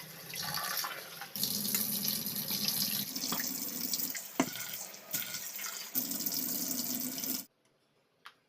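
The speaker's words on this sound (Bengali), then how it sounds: "ওটা কেটে নিয়েছি, নিয়ে ভালো করে একটু ধুয়ে নিচ্ছি" Tap water runs hard into a kitchen sink while chopped potato, capsicum and carrot are rinsed, a steady close splashing rush with brief clatters that stops abruptly near the end, leaving near silence.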